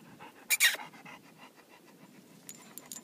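Dogs pant rapidly at the beach, a soft rhythmic huffing close by, broken by a brief sharp louder burst near the start and a few faint clicks and knocks toward the end.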